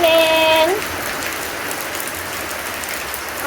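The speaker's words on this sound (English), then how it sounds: "Raining." Rain falling steadily on a surface in the aftermath of a hurricane in Jamaica, a continuous broadband patter heard alone and fairly close after a brief tonal sound at the start.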